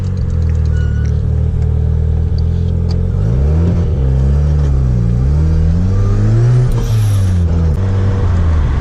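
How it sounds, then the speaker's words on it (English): A Mazda RX-7 FC3S with an angle kit is driven, its engine loud and close, revving up and down in rising and falling sweeps with some mechanical creaks, and no talk. "driving the RX-7"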